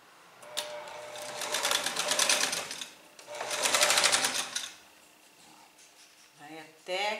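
A sewing machine stitches a shirt cuff placket in two steady whirring bursts, close and fairly loud, followed by quieter handling and a short final run, with someone speaking Portuguese between stitches.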